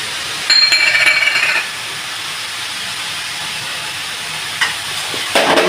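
Wheat veg momo stuffing is mixed in a bowl, with a short burst of stirring and scraping early on. A quiet, steady hiss follows, then another brief scrape near the end.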